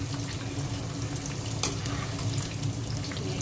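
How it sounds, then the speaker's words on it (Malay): Sausages fry until crisp in a pan of oil, giving a dense, steady close sizzle with light crackles throughout and no talking. "kita goreng sosis hingga garing"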